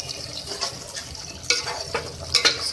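A spoon scrapes through potato and flat bean sabzi with green chillies in a pan, a soft sizzle underneath and a few sharper scrapes and clinks toward the end, close by, with no talking.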